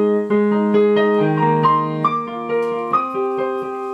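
The verse of a song on solo piano: clear sustained chords with a rising melody line on top, close and even in volume, no talking.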